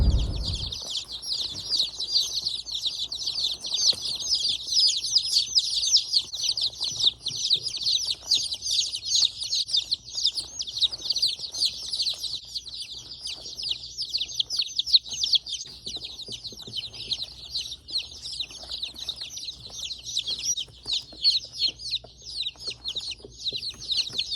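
Many young chicks on a farm peeping constantly in a high, dense chorus, close and steady for the whole stretch with no talk.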